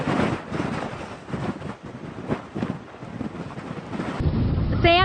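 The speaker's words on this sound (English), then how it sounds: "Wind speeds have been increasing." Strong dust-storm wind buffeting an outdoor microphone during a live news report, a continuous loud roaring rush with gusty surges throughout.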